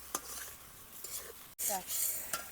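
Water poured into a sizzling pan of egg curry masala sets off a loud burst of frying hiss, with softer sizzling and stirring beforehand, close up.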